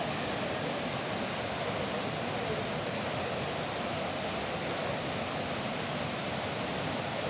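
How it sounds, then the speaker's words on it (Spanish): Steady, dense rush of river water pouring into a deep blue pool on the Río del Oro in Tamazulapan del Progreso, Oaxaca, a constant broadband roar with no pauses and no voices. "esta es la poza en donde está desembocando toda el agua"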